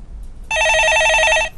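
A telephone bell rings in a single burst of about one second, loud and electronic-sounding with a pulsing warble, on a Korean stock-market call-in broadcast where callers phone in.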